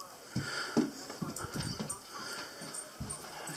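Several dogs wheeze, snuffle and shuffle about close by on a floor in an off-grid house under construction, with irregular soft bursts of breathing and movement.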